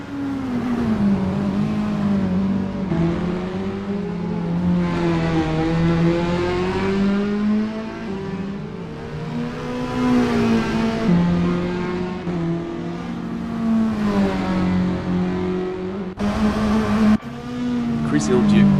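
Toyota S-FR race cars in Assetto Corsa drone steadily, the engine pitch climbing and dipping through shifts, with a commentator talking over the sustained motor note.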